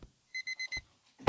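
An alarm clock rings with four quick, evenly spaced electronic beep bursts, loud and close, followed by a short rustle and a sharp thump at the end.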